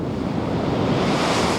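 Storm waves pound against a coastal railway sea wall, a loud, continuous roar of surf and wind-blown spray with no letup.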